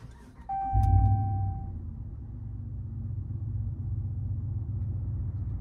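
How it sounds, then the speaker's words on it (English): A Ram 1500 pickup with a Flowmaster Signature Series exhaust cranks with a short starter whine, fires with a loud bark, then drops into a low, steady, fairly quiet idle rumble close by. "We're about to start this Ram 1500 with the Flowmaster Signature Series that Holley nicely sent to us."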